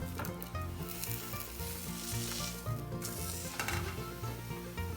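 A sandwich fries in a pan, giving a continuous, close, steady sizzle throughout, with light scraping touches now and then.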